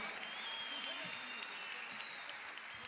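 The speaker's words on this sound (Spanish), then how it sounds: "Salsa Productions, un aplauso y a Inamac Salsa Club." A large theatre audience applauds at a salsa concert, a dense, steady wash of clapping and cheering that fills the room continuously, with faint voices mixed in.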